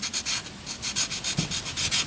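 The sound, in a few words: sanding with 400 grit sandpaper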